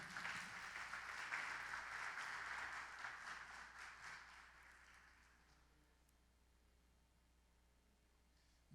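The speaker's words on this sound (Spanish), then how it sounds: "Dele palmas al Rey." Church congregation clapping for the King during a sermon, a dense wash of applause that fades away over several seconds into near silence, ending with a brief sharp sound.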